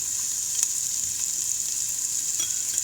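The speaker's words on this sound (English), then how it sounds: "I add my onions and ginger garlic" Onions and ginger garlic fry in oil with spluttered cumin and mustard seeds, producing a constant bright hissing sizzle with faint stirring ticks, heard up close without talk.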